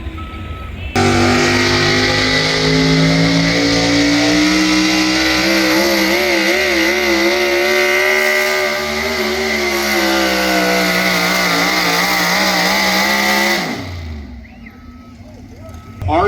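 Chevrolet four-wheel-drive pulling truck, the Simply Red entry from Big Grove, Michigan, roars at a loud sustained rev at a truck pull event, its engine note wavering for about thirteen seconds before cutting off sharply.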